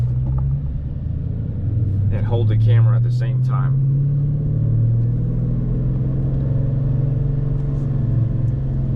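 A 2009 Dodge Challenger R/T engine rumbles steadily at low pitch while driving, a continuous drone with a slight swell, as someone speaks briefly over it.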